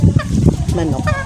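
A native chicken, held for slaughter, squawks and clucks in short, loud, nearby bursts.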